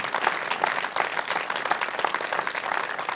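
Audience applause at a summer music evening inside the Žiče Charterhouse, a cultural heritage site in Slovenia; dense, steady clapping fills the space for a few seconds, close and full, with no speech over it.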